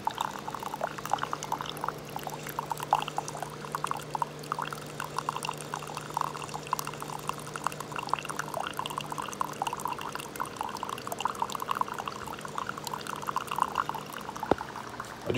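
Hot coffee pours steadily into a cup on a front porch in summer heat, a soft continuous liquid stream lasting the whole stretch at close range, with no talking.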